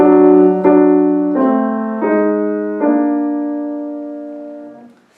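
Orchestral horns sound a fanfare-like figure as a secondary character in a macabre dance, with four bold, loud sustained chords entering in sequence and ringing out to a slow fade, alone without voices.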